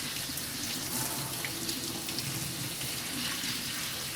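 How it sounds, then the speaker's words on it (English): A kitchen sink tap runs steadily with cold water pouring over freshly blanched green beans, a constant broad splashing rush at moderate level with no talking. "hit them with cold water. Stop the cooking process."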